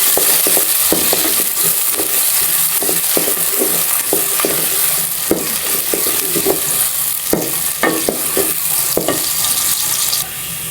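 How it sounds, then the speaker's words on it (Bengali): Onions fry in a pan on a home stove with a loud, constant sizzle, broken by regular scraping strokes as a spoon stirs them. No one speaks. "তো পেঁয়াজটাকে আগে আমি ভেজে নিচ্ছি, তারপর মশলা টশলা দিয়ে দেব।"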